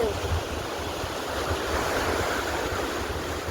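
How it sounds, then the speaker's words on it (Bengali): Waves wash steadily at a river mouth where it meets the sea, a continuous broadband rush of surf with some wind noise, close and fairly loud, with no voices. "আর বন্ধুরা আমরা চলে এসেছি মোহনায় শেষ পর্যন্ত"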